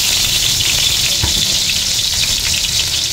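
Onion and garlic sizzle loudly and steadily in a hot pan for squid adobo, a dense crackling fry heard up close with no talking.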